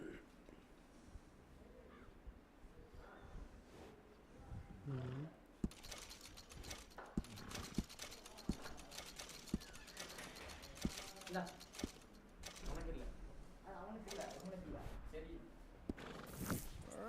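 Horse hooves clip-clop in the Red Dead Redemption 2 video game, a rhythmic run of quiet knocks under game dialogue, with a brief whinny and other faint ambient sounds.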